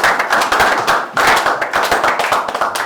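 A church congregation claps for Jesus during a sermon, loud dense applause filling the room, steady and close with a brief dip before swelling again.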